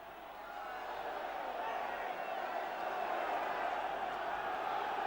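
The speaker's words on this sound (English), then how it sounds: "the crowd trying to rouse the third division side to the dramatic finish" A football crowd at a third division match roars steadily in the distance, a broad continuous swell of cheering that rises slightly in volume.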